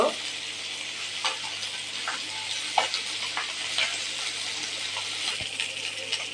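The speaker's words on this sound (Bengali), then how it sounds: "মাছগুলোকে প্রথম আমি ভেজে নেব। মাছগুলার দুই সাইড আমি ভেজে নেব।" Small boal and tengra fish frying in oil, a steady close sizzle with scattered spatula clinks and scrapes, including a sharp tap near the end.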